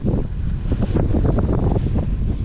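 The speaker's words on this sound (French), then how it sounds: "On a un petit peu de vent." Steady wind buffeting the microphone at sea off the Azores during a crossing to Madeira, over a low rush of moving water, continuous and loud with no pauses.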